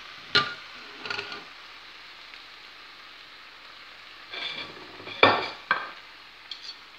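A spoon stirs cooked fish into a filling mixture in a few separate bursts of scraping and soft wet clatter, with quiet gaps between them.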